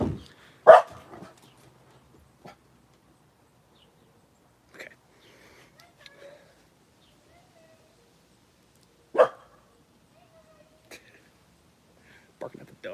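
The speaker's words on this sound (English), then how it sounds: "Barking at the dog" A dog barks indoors in a few sharp, isolated outbursts spaced several seconds apart, separated by long stretches of near-silence.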